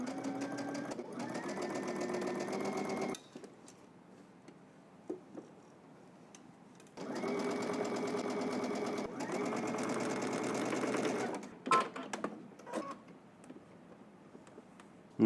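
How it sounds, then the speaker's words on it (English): A sewing machine top-stitches a side slit in two bursts of rapid, steady mechanical whirring, stopping briefly to pivot and then running again, with a few light clicks and taps in the quiet gaps. "we're going to stitch all the way up and then pivot and then come"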